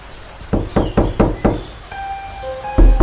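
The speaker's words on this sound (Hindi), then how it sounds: "कि अचानक दरवाजे पर 3 बार दस्तक हुई।" Knocks on a door during a stormy night: a sharp series of loud, close raps in a quick, even rhythm, followed by a brief tonal ringing and a final thump.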